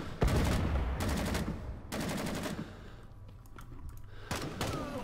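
Bursts of automatic gunfire in the Vietnam War shooter Rising Storm 2: Vietnam, three or four rapid volleys separated by short pauses, close and loud, with scattered quieter shots in between.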